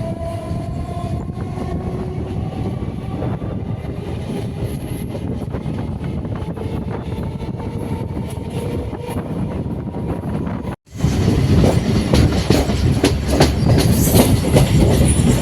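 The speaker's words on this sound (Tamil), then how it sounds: "நம்ம பயணம் பண்ணக்கூடிய இந்த லோக்கல் இஎம்ஐ ட்ரெயின்" A local EMU electric train on a night run from Arakkonam to Avadi gives a loud, steady rumble from on board, with rhythmic clickety-clack of the wheels. There is a brief dip near the end, then louder rattling.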